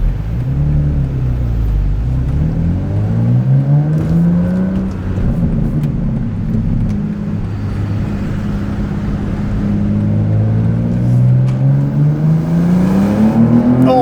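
Engine of a manual BMW M2 G87 pulling hard on a first drive, loud and close, with a steady drone that climbs and falls in pitch through the revs and gear changes, with no talk.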